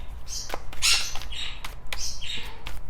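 Pet birds squawk and screech in harsh, raspy bursts at close range, several calls in quick succession.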